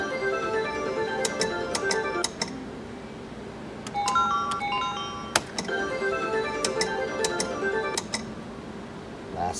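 Bonus wheel spinning on a Wheel of Fortune slot machine, bright electronic chimes and bell tones ticking in quick bursts, with short pauses between runs of notes, moderately loud and steady against casino room background.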